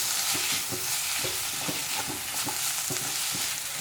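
Chopped ripe tomatoes stirred into a frying chicken curry base, a bright close hiss overlaid by a quick regular rhythm of spoon scrapes and knocks against the pan.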